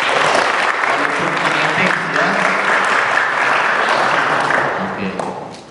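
Loud, steady applause from a school audience during a student orientation assembly, dense and continuous before fading at the end, with faint voices mixed in underneath.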